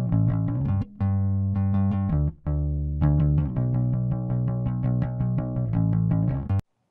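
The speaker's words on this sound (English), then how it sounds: "Here's a bass track." A sustained electric bass line playing steady low notes, with brief gaps between phrases and a busier run of notes toward the end.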